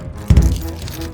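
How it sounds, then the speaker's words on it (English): A short jangle of keys with a soft metallic rattle, close by, after a brief quiet moment. "As he fumbled with his keys"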